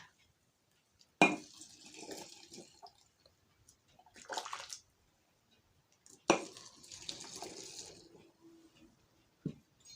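Hot boiled marinade is poured into jars of pickled cucumbers in a few separate splashing pours, with short pauses between them and a faint clink at the end.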